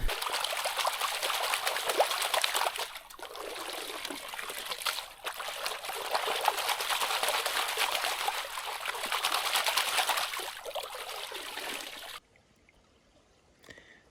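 Gold panning in water gives a continuous near sloshing and trickling that rises and falls for about twelve seconds. Brief pauses break it up, and it ends in quiet with faint drips.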